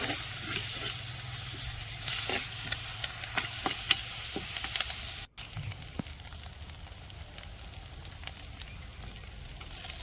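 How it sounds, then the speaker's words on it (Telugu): Ginger garlic paste and whole spices frying in oil for an egg masala curry, a quiet low sizzle with scattered ticks of stirring, cutting out briefly midway and resuming softer, without any speech. "మొత్తం ఈ మసాలాలన్నీ కలిపేసుకొని నూనెలో కొద్దిసేపు వేగనివ్వండి"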